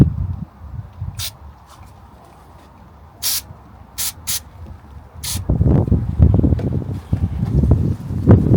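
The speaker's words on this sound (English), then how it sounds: "Good old brake cleaner." Aerosol brake cleaner sprayed in five short, sharp hissing bursts during work on a Morris Minor 1000, with clattering handling noises growing louder near the end.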